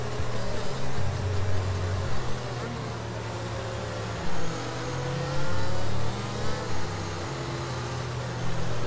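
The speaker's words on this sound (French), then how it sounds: "je vous laisse à bord de la monoplace de Nicolo pendant quelques petits instants" From onboard Nicolo's Formula 1 single-seater, a high-revving engine note climbs and drops through gear changes, loud and close throughout, with a continuous roar and no speech over it.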